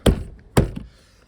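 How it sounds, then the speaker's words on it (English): A plastic trim clip is banged into place on a Mini F56 door during a window regulator replacement. Two sharp, close thunks about half a second apart are followed by a softer knock and a faint tap. "it's just a matter of banging it in, click"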